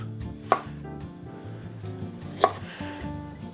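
A knife trimming the sides and corners off a piece of ginger on a cutting board, two crisp chops about two seconds apart over quiet background noise.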